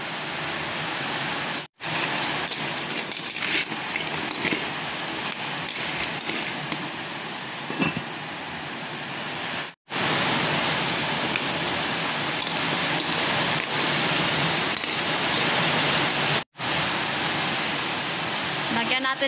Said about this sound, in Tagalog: Grabing ingay, lakas ng ulan at hangin.